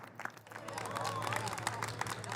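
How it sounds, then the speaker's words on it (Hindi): An audience at a Republic Day poetry gathering claps loudly to welcome a poet, a swelling wash of applause mixed with crowd murmur and a few whistles. "एक बार जोरदार तालियां सौरभ जी आपके बीच।"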